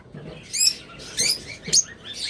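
A pair of violet masked lovebirds gives three short, bright chirping bursts in close succession over a quiet background, with no voices.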